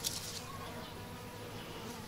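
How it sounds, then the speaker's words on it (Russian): Bees and flies buzz around blooming flowers in a home garden, a soft continuous hum that drifts nearer and farther, with no talking over it. "Все это жужжит, жужжит, жужжит."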